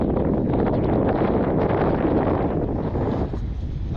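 Steady, loud wind buffeting the microphone, a continuous low roar that barely lets up and softens slightly near the end.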